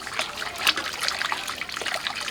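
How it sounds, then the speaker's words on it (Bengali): Hot water is poured into a cooking pot while radish greens and thin dal are being made, giving a continuous close trickling and splashing stream with small surges. "পরিমাণ মতো গরম পানি দেবো আমি।"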